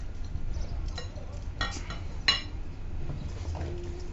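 Crepe batter made with powdered milk being whisked in a bowl, with a few light clinks of utensil against the bowl over steady low background hum.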